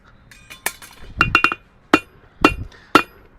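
A blacksmith strikes iron on an anvil with a hammer, ringing metallic blows close and loud, first a quick cluster of three or four strikes, then single spaced hits about half a second apart.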